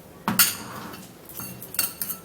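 Spoon scraping and clinking against a bowl while stirring a starch and rosemary mixture, a few close, soft taps and scrapes with quiet pauses between them.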